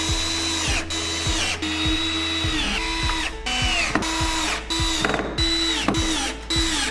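A power screwdriver drives self-tapping screws into the footboard of a white double bed frame, giving repeated short whirring bursts with brief pauses between them, close and clear.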